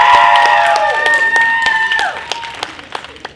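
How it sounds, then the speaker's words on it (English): A convention crowd at a stand-up comedy show claps and whoops, loud drawn-out cheers riding over scattered claps that thin out and fade to a few last isolated claps within a few seconds. "A round of applause."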